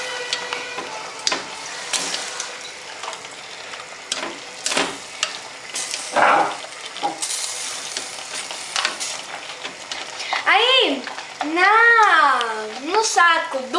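Sauce ingredients are stirred in a pan, a soft, steady sizzle and scraping that runs beneath voices talking, including a child.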